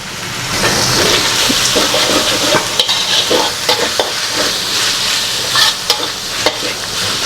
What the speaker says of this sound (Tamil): இப்போ தக்காளியை போட்டுடலாம் தக்காளியை போட்ட கையோட கருவேப்பிலையை இப்படி போட்டு தூக்கிடுவோம்